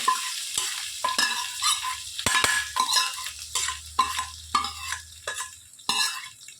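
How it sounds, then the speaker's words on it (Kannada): Spices and leaves crackling in hot oil for a raw jackfruit menaskai, with busy popping and sputtering mixed with spoon-on-pan stirring clatter throughout, close and fairly loud. "ನೋಡಿ ಒಗ್ಗರಣೆ ಹಾಕುವಾಗ ಆ ಸೌಂಡ್ ಬರಬೇಕು"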